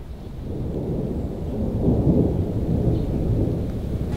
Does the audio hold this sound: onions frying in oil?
no